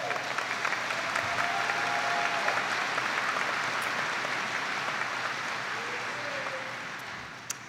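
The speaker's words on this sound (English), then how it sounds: "Please give yourself a round of applause for all" Sustained applause from a large audience honouring graduates at a spring undergraduate commencement ceremony, steady and full throughout with occasional whoops, fading slightly toward the end.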